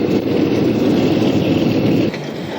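A Lehigh Valley SW 900 diesel switcher locomotive working the lower end of a rail yard, its loud, close engine droning steadily before dropping abruptly to a lower rumble near the end.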